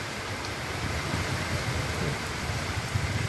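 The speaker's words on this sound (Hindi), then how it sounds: "जोरदार हवा, पानी, बारिश सब हो रहा है।" Heavy rain pours steadily with strong wind, a dense, even roar of falling water that stays constant and close with no voices.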